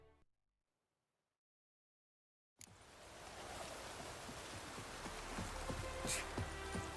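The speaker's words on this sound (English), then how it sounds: "Rain was coming." Rain falls in the video game The Witcher 3, beginning abruptly after a couple of seconds of silence, then a steady, close hiss with scattered patter that builds slightly.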